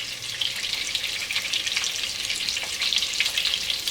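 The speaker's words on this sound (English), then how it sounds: "hot dogs are sizzling nicely." Hot dogs sizzling in a frying pan, a steady bright crackling sizzle with small popping bursts, close and continuous throughout.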